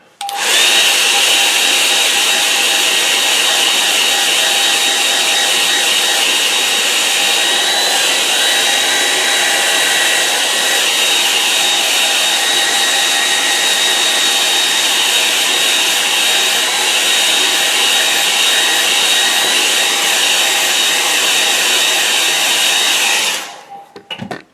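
A hair dryer blows steadily and loudly over a wet watercolour painting of a winter scene in Kent, a constant whirring rush that runs unbroken for over twenty seconds before switching off.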